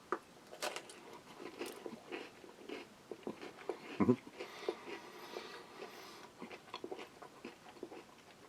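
A British Army cold-climate ration biscuit being eaten with a meat patty: close, crunchy bites followed by chewing, with a louder crunch near the middle and some talking mixed in.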